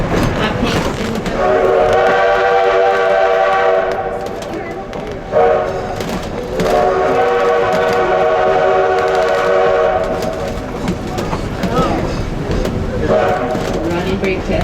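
An 1880 Train in Keystone, South Dakota rumbles past close by, a steady loud mechanical roar with tonal horn-like harmonics, briefly dipping before continuing, with voices faintly underneath.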